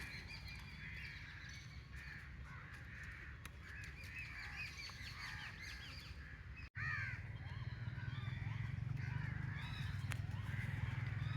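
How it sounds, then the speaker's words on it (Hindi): Crows and other birds at Lahore Safari Park, heard as repeated distant caws and calls over a steady outdoor rumble of wind that grows louder partway through, with no one speaking. "परिंदों की आवाज़ें तो आप सुन ही रहे होंगे।"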